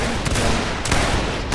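A Napoleonic reenactment line company of the 32nd Regiment of Foot fires muskets, three ragged, crackling bursts about half a second apart, loud and close.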